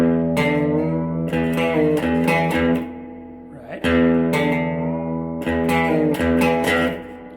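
An electric guitar lick with effects: repeated picked notes and bent strings ringing in quick phrases, with a short pause midway.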